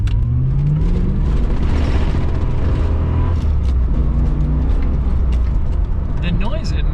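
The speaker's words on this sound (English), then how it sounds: "The noise it makes when you spin the tires in this car, it's like, it's biblical." A 1980s Corvette or Porsche accelerates hard in a drag race with tires spinning, a loud rough engine roar and climbing revs, heard from inside the car with some talk mixed in.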